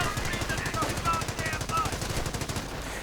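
Rapid machine gun bursts, including .30 caliber fire, rattle steadily throughout a World War II strategy video game battle, loud and dense with overlapping gunfire and no pause.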